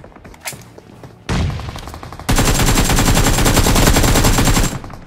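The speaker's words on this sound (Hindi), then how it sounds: "अभी मुझे सामने से बंदों की फायरिंग की साउंड आ रही थी।" Battle royale video game gunfire: a brief burst of shots, then a louder sustained stream of rapid automatic fire that stays close and loud for a couple of seconds before cutting off.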